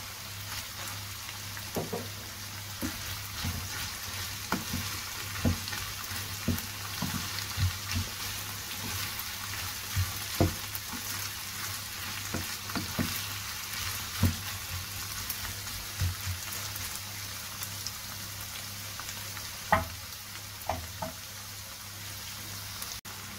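Chives and parsley fry in a batbout pan, a steady close sizzle with light crackles and occasional scraping stirs over the continuous hiss.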